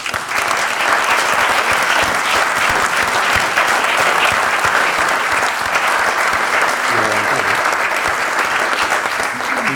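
Loud, sustained audience applause at a presentation event honouring the early Deportivo club, welcoming the grandson of its first forward; thick continuous clapping that fills the room, with a voice beginning to speak near the end.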